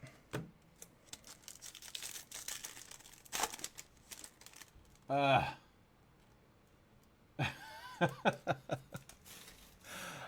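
Baseball trading cards shuffled and handled during a box break: scattered crisp clicks and slides, two brief riffle bursts, quiet and close among light rustling.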